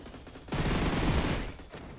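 Sustained rapid burst of AA-12 automatic shotgun fire in a video game, loud and dense for over a second, then tapering off.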